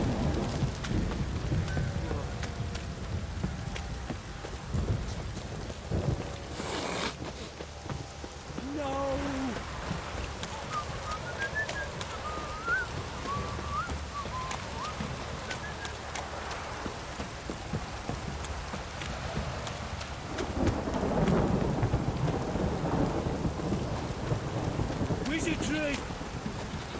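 Steady rain and rumbling thunder in the fantasy game The Witcher 3, a continuous downpour hiss with low rolls of thunder, interrupted midway by a few short voice and effect sounds.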